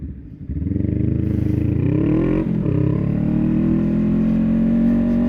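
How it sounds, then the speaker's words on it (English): Aprilia RSV4 motorcycle engine revving up loud and close, the pitch climbing steadily, dipping briefly, then holding a high sustained whine. "For sexy RSV4 noises."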